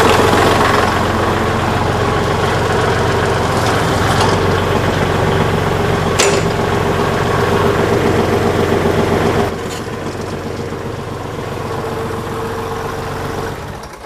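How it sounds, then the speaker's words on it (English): A backhoe's tractor engine idles loudly and steadily while the hydraulic boom extends, with mechanical clanks and a ratcheting churn that drops to a lower, quieter idle partway through. "I'm going to extend the boom out on the backhoe"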